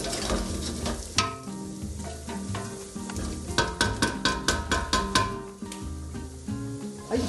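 Mushrooms sauté in olive oil in a pan: a steady sizzle and crackle with a run of stirring clatters and scrapes near the end, close and moderately loud, no talking.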